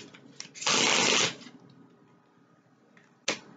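A quick riffle shuffle of tarot cards, one loud burst lasting under a second, followed by quieter handling and a short snap at the end.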